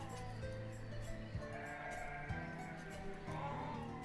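Sheep bleat in the farming video game Banished, several wavering cries in quick succession, quiet and close over a low steady background.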